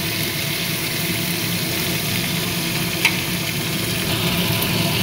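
Adobo sizzles steadily in a pan, a constant close hiss of frying with a faint low hum beneath and one small pop.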